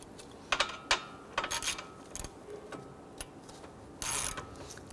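A nut is tightened by hand onto an A/C line fitting during condenser and receiver drier replacement on a 2006-2010 Hummer H3, with scattered close, faint ratcheting clicks and metallic clinks in irregular bursts.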